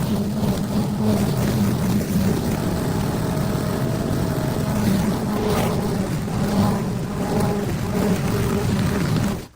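A lawn mower engine drones loud and steady for several seconds outdoors, then cuts out abruptly as the fuel runs out.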